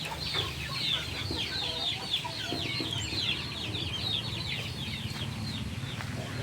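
Young Dekalb Brown chickens, about two months old, cluck and chatter continuously in a flock, steady and moderately near over a low background hum, with no voices.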